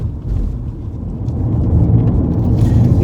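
A BMW E46 316 Ti Compact with a 1.8 litre engine drives along, giving a steady low engine drone and road rumble that builds slightly toward the end, with no talk.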